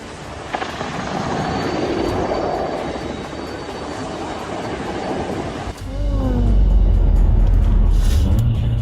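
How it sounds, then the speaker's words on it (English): A Ka-226 helicopter in flight roars steadily in a broad, loud wash that swells further near the end, with chopping low thumps and some faint voices. "a Ka-226 helicopter crashed in Dagestan, Russia"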